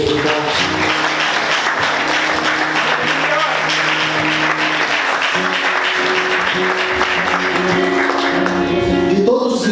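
A church congregation applauds during a worship service, sustained dense clapping across the whole stretch with sustained musical tones running beneath it and voices mixed in.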